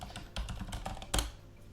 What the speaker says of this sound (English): on my mechanical keyboard, which is very much real and not just a prop